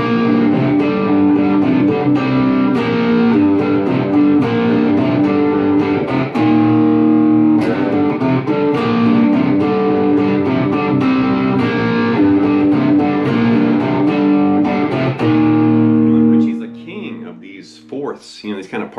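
Distorted electric guitar plays a hybrid-picked riff, snappy partial-chord phrases repeating steadily and loud for most of the passage before cutting off near the end.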